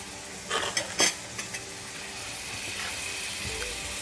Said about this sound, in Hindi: सब्जी को अच्छे से मिक्स कर देंगे मसालों के साथ।